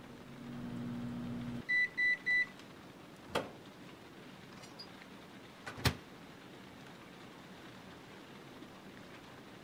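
A microwave oven in the Heavy Rain video game hums as it heats, then stops with three short electronic beeps, followed by a quiet room with a couple of faint clicks and knocks.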